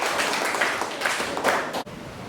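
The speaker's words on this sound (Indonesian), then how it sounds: "Tepuk tangan." Students in a classroom clapping together, a dense, fairly quiet burst of many hands that stops abruptly near the end, leaving faint room noise.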